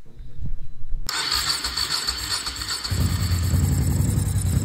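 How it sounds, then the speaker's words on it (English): An old barn-find motorcycle engine cranks briefly, then catches and fires up before settling into a loud, steady idle close by, with an irregular mechanical rumble and no speech. "getting the engine to fire up and idle"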